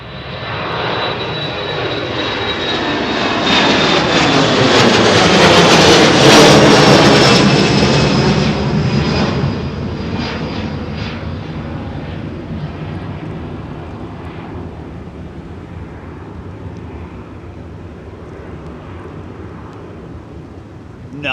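A jet airplane departs Anchorage airport, its engine roar swelling loud with a whining tone, peaking as it passes, then fading into a long distant rumble.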